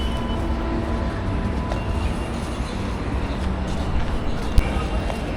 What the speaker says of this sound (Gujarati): સ્ટેશન ઉપર છીએ અને ટ્રેનની રાહ જોઈ છીએ.